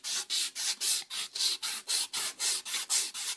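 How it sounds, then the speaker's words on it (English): Sandpaper rubbed by hand over the axle of a 1942 Fichtel and Sachs Torpedo three-speed bicycle hub, a steady rasping rhythm of about a dozen close, even back-and-forth strokes with no talk. "This shows sandpaper to work for the axle."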